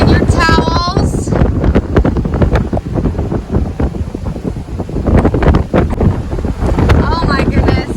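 Strong storm wind buffets the microphone during a golf cart ride at an RV campground, producing a loud, continuous rumbling roar with gusty surges and brief voices in the background.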